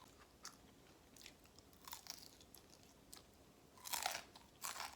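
Crisp potato pancake, shredded potato fried in batter, being bitten and chewed up close, with irregular crunchy bites and a louder burst of crunching near the end, no talking.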